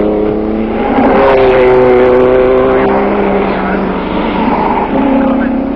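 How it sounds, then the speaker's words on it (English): Maserati and Aston Martin race cars at the 1955 Le Mans 24 Hours, engines droning loud and sustained with shifting pitch, close and continuous for several seconds. "a tremendous fight between the Maserati and the Aston Martin"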